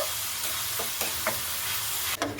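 Boiled raw green papaya is stirred in a pan over a low gas flame while making sweet naru, a soft steady scraping and faint sizzle with a few light taps of the spatula.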